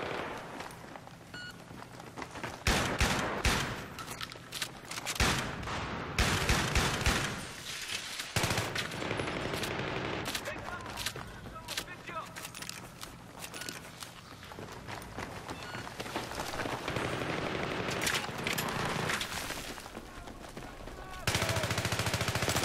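Rapid gunfire bursts from the video game Close Quarters on the Donya Fortress map, loud and dense, with footsteps and running mixed in and near-continuous shooting throughout.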